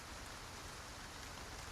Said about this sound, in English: Leon, you knew it was raining